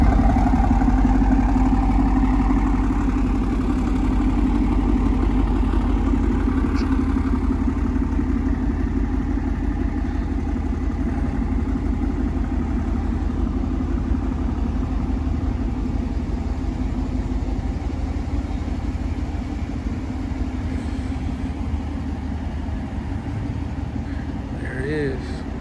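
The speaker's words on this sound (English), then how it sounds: "Got the Carven exhaust." Carven exhaust on a Dodge Scat Pack idling steadily nearby, a deep continuous low rumble that holds level throughout with light clatter, alone without voices.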